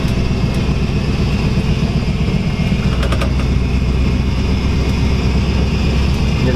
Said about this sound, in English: And the transmission making some funny noises right now.